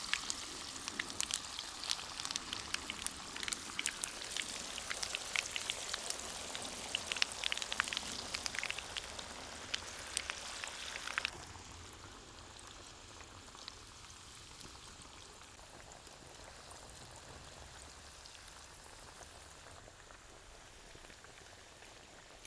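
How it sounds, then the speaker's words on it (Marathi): Kothimbir vadi, coriander fritters, fry in hot oil with a dense crackling sizzle that runs loud for about half the time, then drops to a quieter, steady bubbling hiss. "खरपूस तळून घ्यायचे आता"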